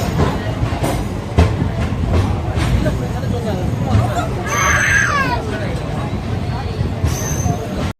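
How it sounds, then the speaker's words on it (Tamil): A passenger express train pulls into Dindigul Junction with a steady rumble, clacking wheels and a squeal of brakes, while a crowd on the platform chatters throughout. "இந்த ரூட்டில் ரொம்ப முக்கியமான ஸ்டேஷன் திண்டுக்கல் ஜங்ஷன் ரீச் பண்ணியிருக்கோம்."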